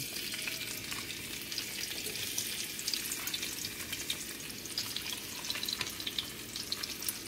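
Onions fry in a pan for fried pompano with a steady, crackling sizzle and small pops at a moderate, even level, heard alone without talk.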